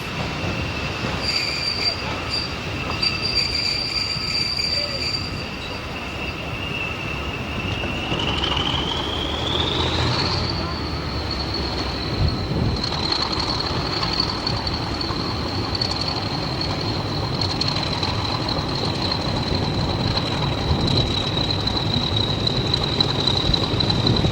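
A charter railtour train hauled by locomotive 50031 rolls past with a steady rumble and a sustained wheel squeal that rises in pitch midway and holds, loud and continuous throughout.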